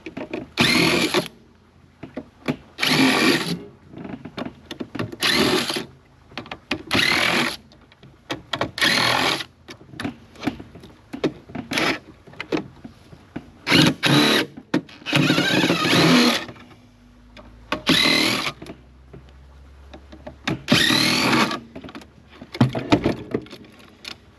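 Power screwdriver dismantling a big scrap transformer in an aluminum case, repeated loud whirring bursts of a second or two with short pauses, close up and without talk.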